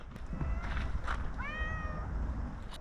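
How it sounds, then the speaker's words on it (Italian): Cat meowing at a campsite on Gran Canaria in the late afternoon, one clear drawn-out meow over a hissy outdoor background with faint rustles. "a parte i gatti che continuano a chiamarci."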